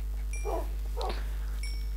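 In the game Minecraft, a dog or puppy gives two short yips about half a second apart, followed by a faint tonal chime from the game.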